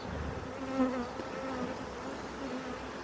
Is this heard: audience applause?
no